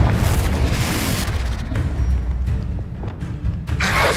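A Confringo blasting spell explodes in Hogwarts Legacy, a loud, dense rumble that holds steady throughout, with a sharper burst swelling near the end.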